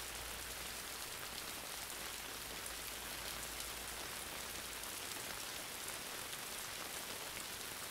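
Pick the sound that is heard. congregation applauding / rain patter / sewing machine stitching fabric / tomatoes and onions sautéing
rain patter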